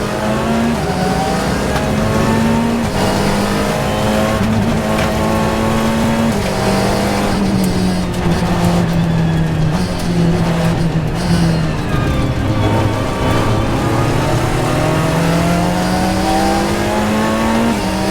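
A Blancpain GT World Challenge race car at Sonoma drives hard at the race start, its engine droning loud and steady with rising and falling revs through gear changes, heard from on board without break.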